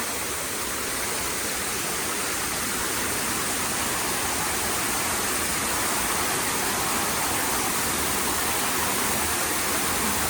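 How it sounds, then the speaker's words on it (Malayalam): Water cascades and foams down a series of rock steps at Omeru Reserve, a steady, loud, full-bodied rush that stays constant and close throughout with no voices. "വെള്ളം അടിച്ച് ഫോം ചെയ്തതായിരിക്കും. അതിങ്ങനെ ഒഴുകി"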